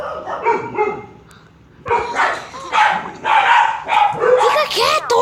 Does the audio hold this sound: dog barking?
yes